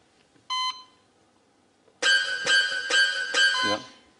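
Electronic heart monitor tones: one short beep, a pause, then a run of four rapid pulsing beeps ending in a slurred tone, loud and close with no talk over them.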